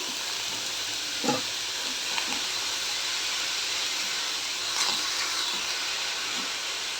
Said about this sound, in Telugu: అందుకనే నేను ఇట్లా వేపుతున్నాను తేమంతా పోతుంది